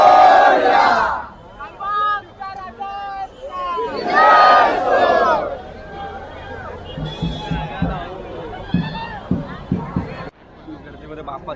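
A dense crowd packs a Ganpati idol arrival procession in Parel, with loud collective chanting and shouting up close, then scattered voices and crowd noise carrying on at a lower level.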